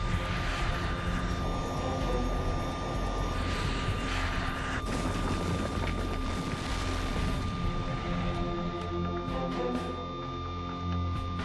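A TAM Fokker 100 airliner taking off from Congonhas airport in São Paulo, a loud, broad engine roar with a steady high tone that thins out and fades near the end.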